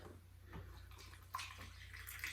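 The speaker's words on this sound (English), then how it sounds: "pour some water in here and let it just float in that for a little bit" Water poured into a plastic plant pot, a steady close splashing and trickling with a couple of brighter gurgles near the end, alone without speech.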